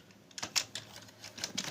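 Quiet keystrokes on a computer keyboard as C++ code is typed, a quick irregular run of soft clicks close by.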